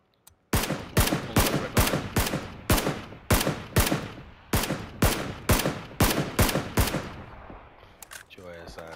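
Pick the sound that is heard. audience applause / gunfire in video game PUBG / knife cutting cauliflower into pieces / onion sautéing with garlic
gunfire in video game PUBG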